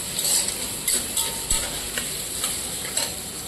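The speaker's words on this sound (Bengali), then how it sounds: "এরপরে আমি অ্যাড করে দিচ্ছি পেঁয়াজ কুচি" Chopped onion fries in a pan with bay leaf, cumin and dried chilli, a steady close sizzle punctuated by regular stirring taps about every half second, with no talking.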